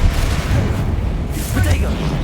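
Booming fire-spell blast from Hogwarts Legacy, a heavy low rumble that holds steady for a couple of seconds with a brighter burst near the end, with voices and spell combat around it.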